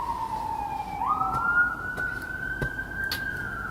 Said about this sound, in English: Sirens are really active today here in Brooklyn.